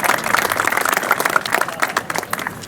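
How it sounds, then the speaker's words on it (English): A small crowd claps at the inaugural flight event for an Avelo Air Boeing 737-700 from New Haven, a brief burst of uneven, close applause that fluctuates in strength. "Yeah, you can clap for that."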